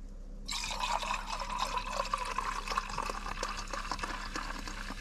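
Tonic water poured into a container at a campsite, a steady bubbling, fizzing stream starting abruptly and continuing close and clear for several seconds.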